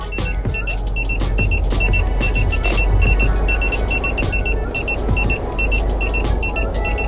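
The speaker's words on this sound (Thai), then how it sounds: "จะมีเป็นไอคอนแจ้งเตือนนะครับ พร้อมทั้งเสียงนะครับ" A Smart Gauge Evo overheat warning alarm beeps in rapid, repeated bursts of high tones over a steady car engine hum.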